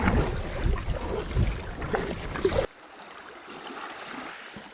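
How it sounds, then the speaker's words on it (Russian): Strong wind and waves on Lake Baikal, heard from a kayak over a shallow shoal: gusty rushing noise and water slapping, louder and rougher at first, then dropping to a softer steady wash. "довольно сильный ветер сейчас. Да. И волны здесь есть, потому что здесь мель."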